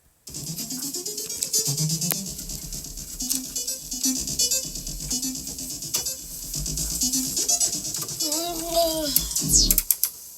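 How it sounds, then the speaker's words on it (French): A child plays a toy keyboard: scattered tones and tapping notes, with a few rising electronic warbles near the end, close and moderately loud. "j'ai simplement enregistré quelques secondes où Zazou jouait du clavier"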